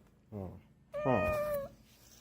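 A cat meows twice nearby, first a short chirpy call, then a longer, higher drawn-out meow, in an otherwise quiet room.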